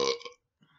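A short, loud, close burp comes from a man chugging a drink, followed after a brief pause by a faint trailing vocal sound.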